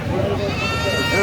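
A goat bleats amid the bustle of a crowded goat and cattle market in Pabna, with people talking close by and partly covering the call.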